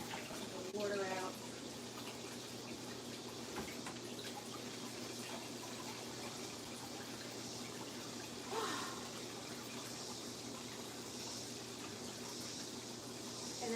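Water draining steadily out of a pond filter outdoors, a continuous trickling and splashing wash that stays even throughout, with a voice speaking faintly over it.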